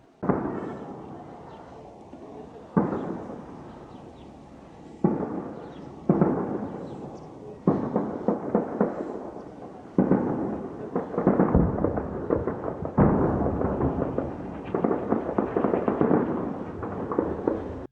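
Gunfire in an armed clash between police and militants, heard as sharp, heavy reports arriving in separate bursts several seconds apart, some single and some in rapid rattling runs, loud and echoing over a low outdoor rumble.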